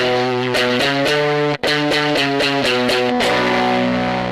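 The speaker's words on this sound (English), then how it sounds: "adding the fuzz on is going to give it that broken sound." Electric guitar with heavy fuzz distortion playing a chugging riff in short repeated chords, loud and close, buzzy and broken in tone.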